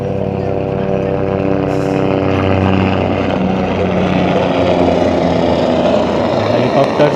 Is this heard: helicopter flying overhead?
yes